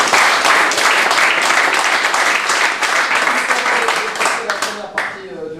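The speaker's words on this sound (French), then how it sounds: "applaudissements." A crowd applauds steadily, dense clapping filling the room, fading out near the end as a voice begins.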